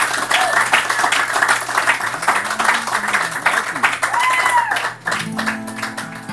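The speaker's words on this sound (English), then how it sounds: "I like it when there's applause that lasts longer than 2 seconds." An audience at an intimate songwriter session applauds after a song, a dense, sustained wash of clapping lasting several seconds with a voice and faint tonal sounds mixed in before it thins out.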